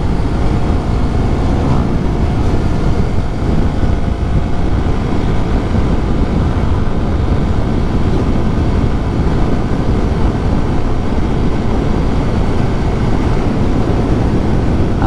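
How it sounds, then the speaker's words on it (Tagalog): Loud, steady wind buffeting and roaring past a moving motorcycle on the Marilaque highway, a dense broadband rush that drowns out the engine throughout the ride. "Ang naririnig ko lang mga boss eh, hampas ng hangin."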